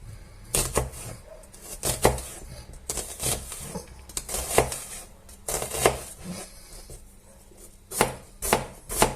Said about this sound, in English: we will also finally chop up the onion